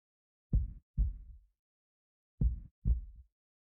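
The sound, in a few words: heartbeat sound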